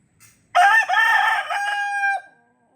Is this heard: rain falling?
no